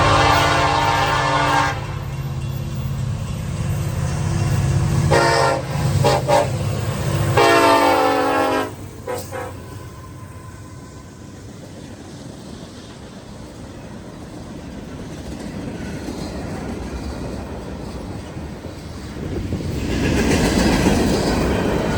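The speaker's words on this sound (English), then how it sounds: "In all of its EMD glory, Union Pacific 1996 was hauling at track speed right towards me." Union Pacific 1996, an EMD diesel locomotive, hauls a train at track speed toward the listener, loud rumble and horn blasts early, then steady rolling wheel noise and clatter that swells again near the end.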